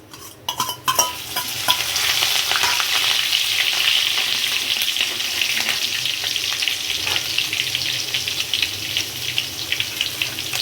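Chopped green chillies drop into hot oil already holding cumin and asafoetida for Rajasthani ker sangri sabzi, a brief clatter at first, then a loud, close, continuous sizzle that crackles steadily to the end.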